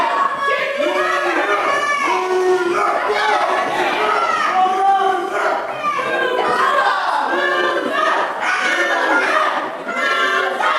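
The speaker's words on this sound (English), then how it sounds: "The crowd letting them know how they feel" A crowd at an independent wrestling match yells and shouts continuously, many voices, including children's, overlapping in a loud, sustained roar of reaction.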